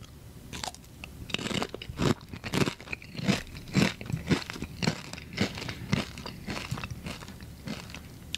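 Doritos Flamin' Hot Mystery Flavor chips are crunched and chewed up close, a rapid series of loud, crisp bites and crackling chews in an irregular rhythm, with no talk.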